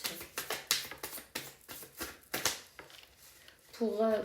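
Tarot cards shuffled in quick riffling bursts with soft taps between them, close and crisp, followed by a brief voice at the end.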